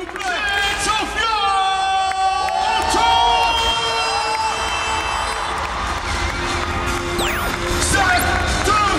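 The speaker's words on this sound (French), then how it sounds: "On l'applaudit bien fort, s'il vous plaît." A lively crowd cheers, whoops and claps at the Juste Debout street dance event in 2013. The loud, continuous roar of many voices, with sharp whistles and shouts, rises and falls around an announcer's voice.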